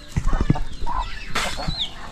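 Several close, short clucks from chickens, followed by a higher squawk and chirping; a voice may murmur briefly.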